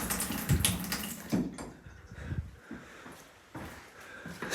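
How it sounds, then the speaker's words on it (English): A household hot water tap runs with a weak, uneven flow, a faint watery splash that swells and dips at close range with no talking. "So you see how pathetic the hot water is?"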